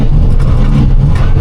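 A farm truck engine running loud and close with a heavy low rumble and slight surges in revs as the driver misses a gear, under steady engine noise throughout.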